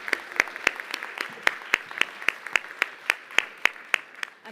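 Sparse, distinct handclaps at a startup awards showcase, about a dozen evenly spaced claps in a quiet room rather than a full ovation.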